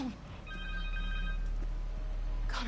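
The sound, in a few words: cell phone ringing in Spider-Man video game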